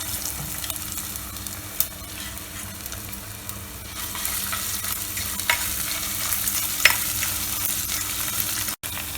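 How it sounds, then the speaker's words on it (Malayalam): Ginger fries in hot coconut oil with a steady, close sizzle and crackle. Occasional stirring scrapes run through it, and no one speaks. "അതിനകത്തേക്ക് ഇഞ്ചി ഇടുക."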